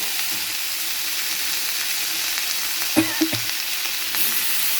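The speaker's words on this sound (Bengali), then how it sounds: "দেরি না করে দিয়ে দেবো পেঁয়াজটা কারণ পেঁয়াজটা ভাজা হতে হবে" Onions sizzle as they fry in a pan for a spicy boal fish curry, a steady hiss broken by a few sharp stirring scrapes and clinks near the end, with no voices.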